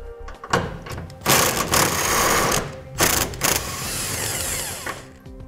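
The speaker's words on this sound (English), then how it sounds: "We'll use a 21 millimeter socket to remove the bolt." A 21 millimeter socket turning a frame bolt out while fitting a trailer hitch receiver on a 2014 GMC, heard as close whirring mechanical bursts in two main runs with brief pauses.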